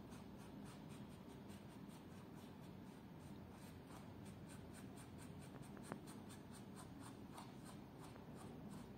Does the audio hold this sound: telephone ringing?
no